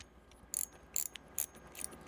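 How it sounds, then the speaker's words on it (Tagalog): HAUTTON Polar Night carbon spinning reel drag clicking, a short series of quick, crisp ratcheting bursts at a slightly uneven rhythm, close up with no talk. "Yung tunog ng kanyang drag, pakinggan natin."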